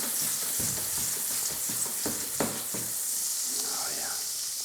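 Capers sizzle and spit in hot butter in a frying pan, a steady close crackle with sharp pops, sometimes swelling as the pan is swirled.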